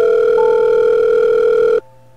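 A telephone sounds in the horror video game Five Nights at Wario's: Trapped Within, a loud, steady electronic tone held for almost two seconds before cutting off abruptly into quiet.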